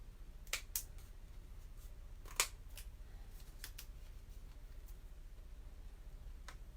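Scissors trimming burlap ribbon for a ruffled holiday craft: a few sharp, quiet snips spaced out over a low background hush, with no talking.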